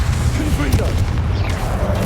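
Fiery blast of the Confringo spell in the Hogwarts Legacy game, during Percival Rackman's trial, sounding as a continuous low rumble with brief booming bursts and a faint voice underneath.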